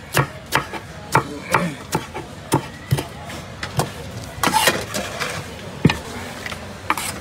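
Coriander leaves being chopped for jhalmuri at a street food stall: a run of sharp, close knife strikes on a board in an uneven rhythm, about a dozen distinct chops.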